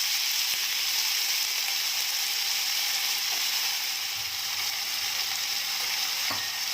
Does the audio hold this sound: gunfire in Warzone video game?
no